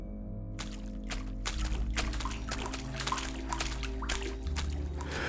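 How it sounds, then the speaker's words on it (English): Water drips and trickles inside an old concrete tunnel with seeping leaks, irregular drops and splashes echoing over a low, steady hum and a faint flowing wash. "mixing with the constant drip of unseen leaks"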